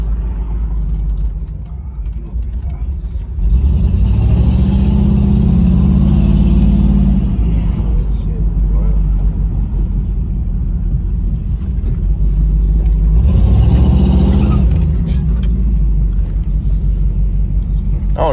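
A boxy Chevy's engine revs hard twice, a long loud roar early on and a shorter surge later, close by over a steady low rumble and wind buffeting.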